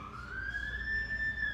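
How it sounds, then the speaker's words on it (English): Police car siren going by, a single rising wail that swells steadily louder over a second and a half above low background traffic hum. "Police car going by."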